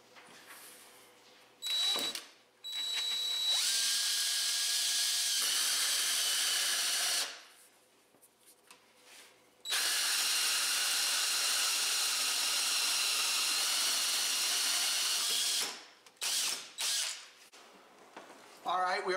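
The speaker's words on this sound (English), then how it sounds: "Now we'll drill the driver's side, making sure there's nothing underneath here." A power drill bores into the driver's side of a RZR side-by-side while a cab heater is fitted, loud sustained whirring bursts with pauses between them.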